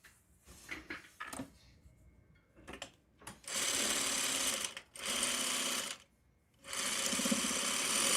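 A sewing machine stitches two fabric pieces together for a four-patch quilt block. A few soft handling clicks come first, then three sustained, even whirring runs of stitching with brief stops between them.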